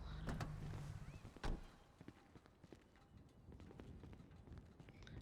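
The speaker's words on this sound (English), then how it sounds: "The kind of fucking horsey noise that it's making." A horse-like clip-clop noise from a video game plays as a steady run of soft hoof-like taps, fairly close, with one louder thump early on and a low background hum.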